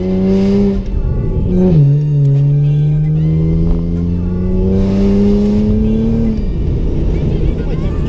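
A BMW car drives and accelerates, its engine note rising and falling through the gears in a loud, close, steady drone with a couple of shifts, while someone talks over it.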